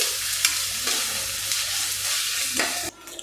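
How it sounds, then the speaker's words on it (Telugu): Green chillies stirred in a hot frying pan while preparing a ridge gourd and green chilli curry: a soft continuous sizzle with scraping stirs, ending in a brief clatter as the stirring stops. "పచ్చిమిర్చి కూడా దీన్ని కూడా బాగా కలిపేసుకున్నాము"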